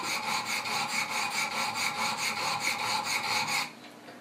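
Wicked Edge guided sharpener stones stroking the blade of a Benchmade 940 knife, a steady rhythmic series of close, gritty rasping passes that ends abruptly.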